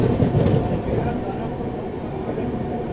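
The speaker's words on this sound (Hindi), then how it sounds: "सामने से कोई ट्रेन आ रही है वैप 7 के साथ में" Indian Railways train hauled by a WAP-7 electric locomotive passing the other way near Ghaziabad, heard as a steady loud low rumble and rattle throughout, with talk over it.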